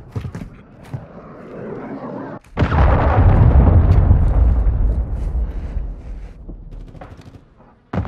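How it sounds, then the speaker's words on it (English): A cruise missile blows up in Call of Duty: Modern Warfare 2, a sudden heavy boom that rolls into a long rumbling roar and slowly fades, after a stretch of quieter game noise. "Hostile cruise missile launched."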